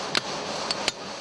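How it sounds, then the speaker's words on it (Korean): Hammer striking a chisel to hand-trim rough marble blocks in a marble processing workshop near a quarry in Makrana, India; three sharp metallic taps, the middle one fainter, over a steady background hiss. "울퉁불퉁하고 모난 부분을 망치와 정을 이용해 일일이 손으로 다듬는 기본 작업이다."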